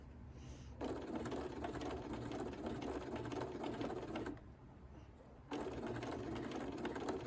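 A sewing machine stitches a seam, running steadily for several seconds, pausing briefly, then starting up again with the same fast, even mechanical whir.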